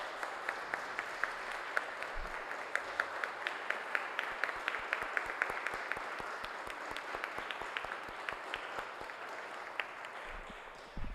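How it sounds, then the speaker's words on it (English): Applause at a Providence city council meeting, a thin, steady patter of individual claps from a modest crowd, fairly soft and sustained for about ten seconds. "give them an applause"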